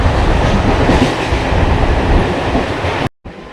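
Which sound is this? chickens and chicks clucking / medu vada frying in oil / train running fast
train running fast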